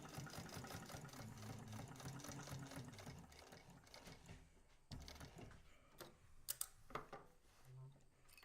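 A sewing machine runs in steady bursts while top stitching three sides of a bag, a close whirring hum that stops partway, followed by a few knocks and handling noises as someone speaks.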